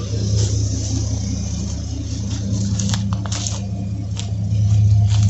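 A Chevy OBS pickup truck engine runs close by with a steady low rumble, swelling into a rev near the end.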